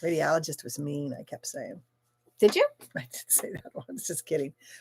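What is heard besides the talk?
No distinct noise like a dog, phone or traffic.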